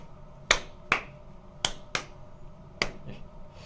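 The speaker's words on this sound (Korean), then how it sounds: "이렇게 약간 기울여서 이렇게 박수를 한번 쳐보세요." A single person claps with hands tilted at an angle, five separate sharp claps at irregular intervals, close and distinct against a quiet room with no talking.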